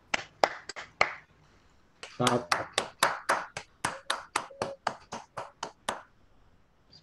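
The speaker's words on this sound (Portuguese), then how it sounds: "vamos bater palmas aí pela apresentação do professor" Scattered clapping after a university physics lecture, heard over an online call: a few sharp claps, then a second run of distinct, evenly spaced claps from a small group, with a brief spoken word near the start.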